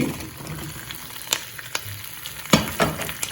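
Curry leaves, onion and garlic frying in a pan for a garlic pepper rasam, a soft continuous sizzle broken by sharp scraping stirs and clatters, close and moderately loud.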